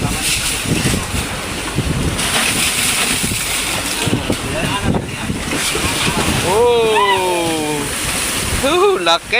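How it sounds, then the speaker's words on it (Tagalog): Big ocean waves wash around a fishing boat out catching bluefin tuna, a steady rushing surge with heavy wind buffeting close by, while people talk over it. "Oh, laki ng alon."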